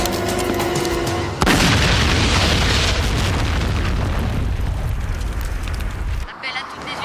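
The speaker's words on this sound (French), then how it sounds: "une explosion vient de se produire au garage Anderson" A loud explosion at a garage tears through with a sudden booming burst, followed by several seconds of dense roaring rumble that cuts off abruptly near the end.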